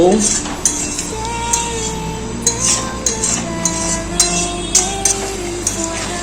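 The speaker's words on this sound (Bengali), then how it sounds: "আবারও কিছুক্ষণ কষিয়ে নেব" Mutton rezala being stirred and sautéed in a pot, with a spoon scraping and clinking against the metal in repeated strokes over a steady low background hum, with no voices.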